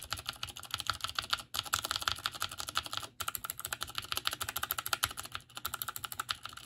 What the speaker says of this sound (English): I found a way to make Cherry MX Blues not loud, but still clicky.